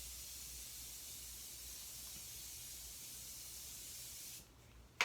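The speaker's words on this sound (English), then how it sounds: "I'm just going to spray my face down." A long, continuous misting spray of setting spray onto a face hisses for several seconds, then cuts off abruptly into quiet.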